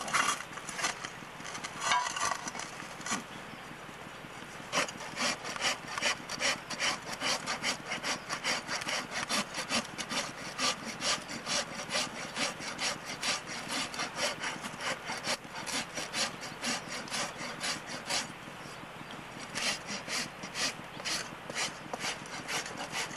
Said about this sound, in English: So I'll just rasp him down here a little bit, and we'll put that shoe back on.